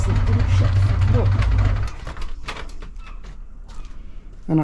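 A BMW K100 motorcycle engine runs roughly and loud at first, then sputters out and dies from fuel starvation, leaving faint irregular knocks and rustles, with a brief loud noise at the end.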